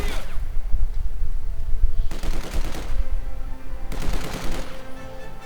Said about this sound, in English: MG42 setting up inside the building. Could it perhaps? Yes, indeed, it can fight the conscripts and suppresses them.